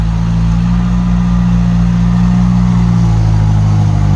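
A farm tractor's diesel engine runs steadily and loudly close by, holding a constant low rumble with a slight shift in pitch near the end and no voices.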